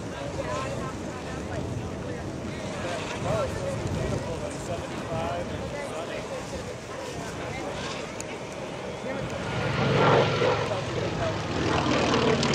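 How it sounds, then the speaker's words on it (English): North American T-28 Trojan warbird radial engines roar steadily on low passes over the Oshkosh airfield at EAA AirVenture, loud and sustained, swelling louder near the end as an aircraft streams by under an announcer's voice. "listen to this wonderful engine as it streams by here on these low passes. These are the T-28 Trojans"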